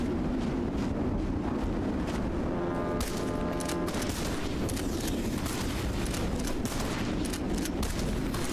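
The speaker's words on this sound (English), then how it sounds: "Oh my god, this is a lot of rounds in the shotgun" Rapid bursts of gunfire from a heavily loaded shotgun in a pirate-themed video game, loud and continuous, with dense overlapping shots and booming explosive rumble.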